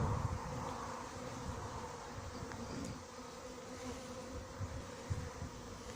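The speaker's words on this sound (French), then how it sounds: "je pense qu'il y a 2000 abeilles sans problème." A swarm of roughly two thousand honey bees buzzes in a dense, continuous drone, close and steady throughout with no talking.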